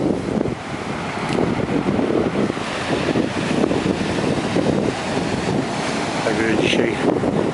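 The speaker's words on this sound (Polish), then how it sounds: "jest to ocean, więc zawsze jakieś fale są" Atlantic ocean waves at a beach wash steadily over heavy wind buffeting the microphone, a continuous loud roar with no clear breaks between swells.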